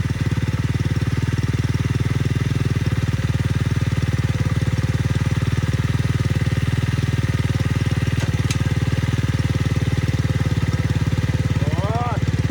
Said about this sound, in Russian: и завожу мотоцикл